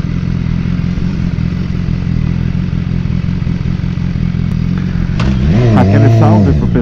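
A BMW S1000 XR motorcycle fitted with a Power MotoGP sport exhaust runs with a loud, close, steady low engine drone, and a voice begins talking over it near the end.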